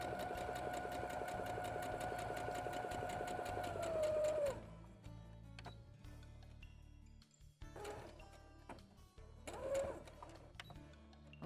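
Domestic sewing machine stitching a fabric house-shaped cushion, running steadily and fairly loud for about four seconds before winding down, then brief handling clicks and a short second burst of stitching.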